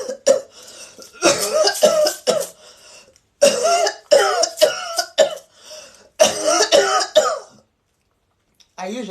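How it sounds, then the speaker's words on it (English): A man coughs hard and repeatedly, with several loud bursts of coughing in clusters separated by short pauses, close to the microphone. "today allow me to just cough"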